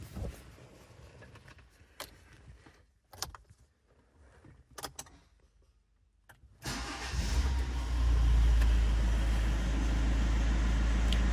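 A 2010 Kia Ceed engine cranks and starts after an ignition lock replacement, preceded by faint clicks and key sounds, then settles into a loud, steady idle that fills the rest of the recording.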